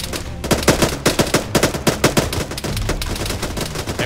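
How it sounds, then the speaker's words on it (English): Rapid bursts of gunfire from a cavalry regiment's weapons, loud and close, with irregular clusters of shots and brief pauses running throughout. "Shots! Shots!"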